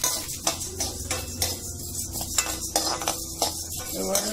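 Roasted gram (pottukadalai) is dry-roasted in a pan, with repeated close scraping strokes and the rattle of dry legumes against metal in a steady stirring rhythm, plus a faint underlying sizzle.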